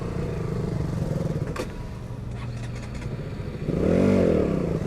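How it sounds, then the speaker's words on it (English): A KTM Duke 200 motorcycle rides steadily with a continuous engine drone, then the engine note swells into a louder, rising rev near the end, with some rattle and scrape mixed in. "riding bikes is so nice"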